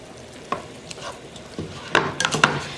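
A spoon stirring Sazon seasoning into cod fish in a pot, giving soft scrapes and a few sharper clinks over a faint, quiet sizzle.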